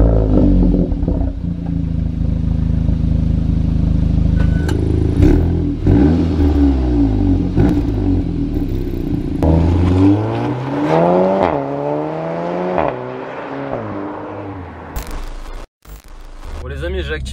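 A Volkswagen T-Roc R fitted with an Akrapovic exhaust revs repeatedly, the engine note climbing and falling in sweeping bursts, loud and close, with a sharp crackle near the end.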